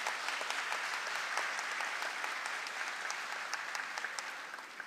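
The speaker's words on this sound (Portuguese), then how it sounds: "eu peço uma salva de palmas" An audience at a municipal committee session on elderly mental health applauds steadily, a dense wash of many hands clapping at moderate distance that holds evenly and slowly tapers toward the end, with no talk over it.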